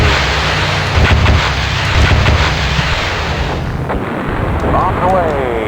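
Bombs exploding in the Fighters Anthology flight sim: a steady, heavy low roar with repeated booming blasts rolling through it, loud and close, thinning toward the end.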